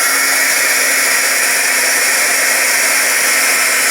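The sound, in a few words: heat gun running on a junk journaling page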